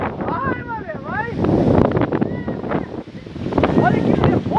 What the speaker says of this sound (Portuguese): Olha que vento, rapaziada.